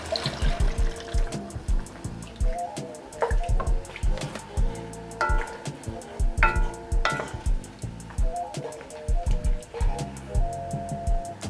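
Water is added to a pot of Caribbean-style beef stew, pouring and splashing close by, with clinks and stirring over several seconds.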